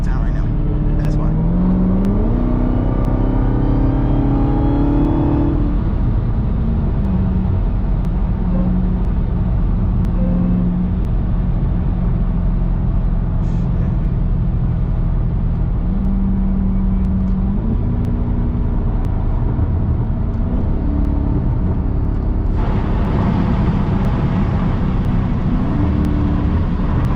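Loud widebody Dodge Hellcat engine droning steadily from inside the car during a late-night drive, with a low exhaust rumble and a rising rev near the start, and a person talking over it throughout.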